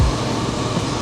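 A heater blower fan runs in a 1995 Land Rover Defender 90 300 Tdi, a steady close whooshing roar of moving air with a low rumble beneath, even and continuous throughout.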